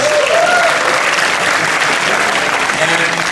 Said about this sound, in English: Let's just give that title a round of applause.